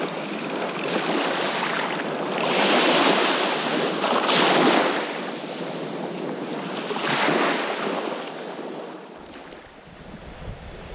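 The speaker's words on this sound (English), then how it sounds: "The wind had picked up now and the tide was high" Wind buffets the microphone over steady high-tide surf on the shore at the northern tip of the Cape near Exmouth, with broad rolling wash swelling and easing in waves, loud and close, and no voices.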